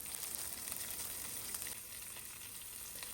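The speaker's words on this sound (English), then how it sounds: "And once they start spluttering, add onions" Onions and green chilies frying in hot, spluttering oil during a tempering with garlic, red chilies and curry leaves, giving a steady, bright crackling sizzle that runs continuously and fairly softly, with no voices.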